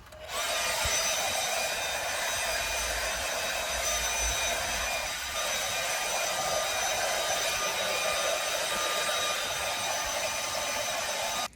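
A heat gun or hair dryer blows a steady whooshing hum while warming a leather seat cover for a Mk7 Golf, continuous and close for about eleven seconds with a slight dip midway.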